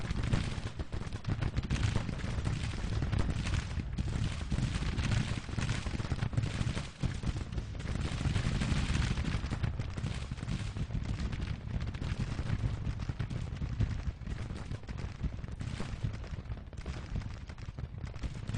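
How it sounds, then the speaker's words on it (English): Rifle volleys and flanking fire from brigades armed with Hall rifles in Grand Tactician: The Civil War. A dense, continuous roar of musketry with heavier booming underneath runs unbroken for the whole stretch, loud and crowded. "The 2nd Brigade is marching straight into a whole bunch of flanking fire and fire from Culkett's Brigade with their Hall rifles"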